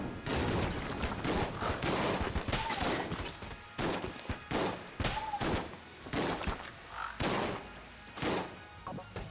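Shotgun fire in Enter the Gungeon comes as a dense string of loud blasts, back to back with no break, mixed with crashes and impacts.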